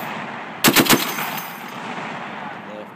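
A .50 caliber machine gun mounted on a HMMWV fires one short burst of about four heavy, booming shots close by, then an echoing tail fades into quiet outdoor ambience.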